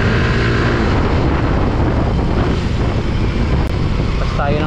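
Yamaha Mio i 125 scooter engine with a stock pulley setup revving hard on a road, a loud continuous motor drone with rising pitch sweeps near the end, up close throughout.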